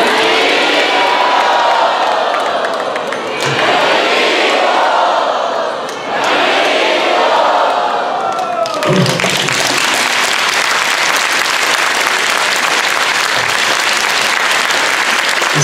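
An audience at the opening of a festival applauds and cheers a guest: loud sustained clapping with whoops and shouts, swelling into an even denser ovation partway through.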